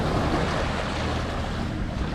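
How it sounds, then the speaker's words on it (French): Sailboat out on the Mediterranean on a calm sea in light wind of about ten knots, with a steady broadband wash of water and wind noise running continuously, no voices. "La mer est belle, par contre le vent est très bas,"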